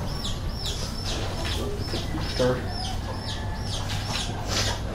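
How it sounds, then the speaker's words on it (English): Chickens cluck repeatedly through the scene, a busy run of short calls over steady background noise, with a brief human voice partway through. "Hi, chickens."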